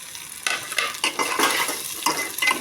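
Chopped vegetables with tomato, onion and green chilli sauté in a pan for a vegetarian khichdi, a steady close sizzle broken by repeated scraping stirs of a utensil against the pan.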